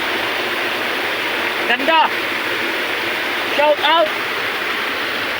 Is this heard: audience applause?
no